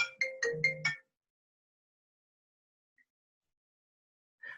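A phone ringtone plays a quick burst of four or five bright, rising electronic tones, then falls silent before a faint chirp and the start of another burst.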